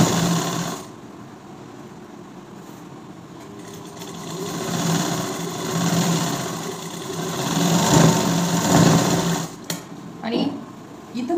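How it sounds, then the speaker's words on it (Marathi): A sewing machine runs in steady, whirring bursts while stitching a blouse lining, its motor rising and falling in speed close by, with someone talking over the stitching. "आणि इथं तुम्हाला दाब शिलाई द्यावी लागते"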